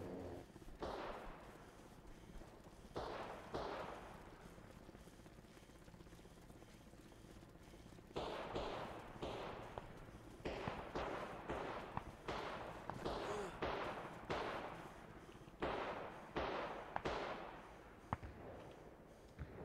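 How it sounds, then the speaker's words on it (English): Scattered pistol shots pop at intervals in a military video game squad match against NATO, mixed with other bursts of gunfire over a steady background hum, some louder and nearer than others. "There's a guy with a pistol shooting at the..."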